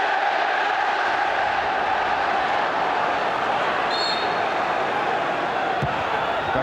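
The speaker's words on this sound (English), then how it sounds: "crowd noise is rising." Football stadium crowd at a 1999 FA Cup match between Manchester United and Liverpool, a steady loud roar of massed voices filling the clip, swelling slightly with whistles and shouts.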